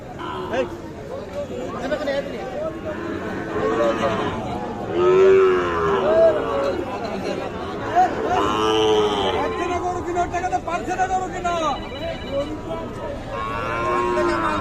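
Sahiwal cattle at a busy livestock market moo repeatedly and loudly, several drawn-out calls rising over steady crowd chatter and bargaining voices.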